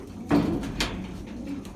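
Pigeons coo close by with a couple of soft throaty calls over a low, steady background.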